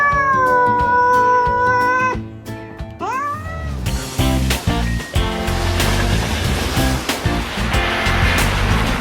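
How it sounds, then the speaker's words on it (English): Kiki, a pet cat, lets out a couple of drawn-out meows up close, followed by a loud, noisy rushing wash that masks everything after. "Here's my cat. Her name is Kiki."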